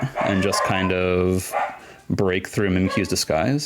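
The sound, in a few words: dogs barking in the background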